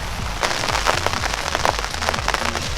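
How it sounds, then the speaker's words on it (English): Steady, dense rainfall patters on a vegetable farm, close and fairly loud, with many individual drops striking surfaces over a constant hiss. "it feels pretty amazing to be getting rained on"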